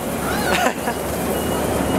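A diesel train's warning alarm beeps over a low engine rumble, brief and somewhat muffled, with a voice briefly heard, at an amusement park.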